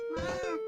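A house cat gives a single drawn-out meow, close and fairly quiet, lasting under a second.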